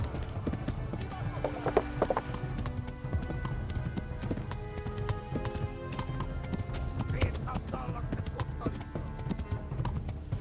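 A horse gallops in the medieval video game Kingdom Come: Deliverance, its hooves drumming in a fast, steady rhythm close up, with game music and voices running underneath throughout.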